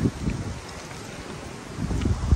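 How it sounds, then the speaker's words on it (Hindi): Strong gusty wind before rain buffets the microphone outdoors, a low rumbling roar that swells at the start and again near the end. "कितनी तेज हवाएं चल रही है अभी बारिश आएगा"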